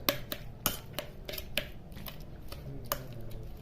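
Spoon clinks and scrapes in a bowl as spring onion greens are mixed with turmeric and red chili powder for a Champa Shashti offering, a series of sharp metallic taps at an uneven pace, close and fairly quiet.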